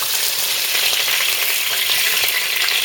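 Cornbread frying in a pan gives a loud, dense, even sizzle that runs unbroken from start to finish with no voices.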